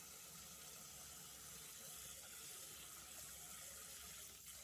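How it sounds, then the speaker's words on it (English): Tap water runs steadily over Thai sticky rice being washed in a sink, a constant close-up splashing rush with no break and no voices. "Wash the rice over running water."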